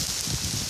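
Rain falls steadily during a fishing outing, a continuous soft patter of drops with no talk over it.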